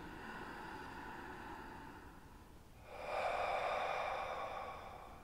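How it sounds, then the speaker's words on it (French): Slow, controlled Pilates breathing sounds close to the ear: a long, soft inhale through the nose, then a stronger, airy exhale through the mouth. "l'inspiration donc par le nez et l'expiration lente et contrôlée par la bouche"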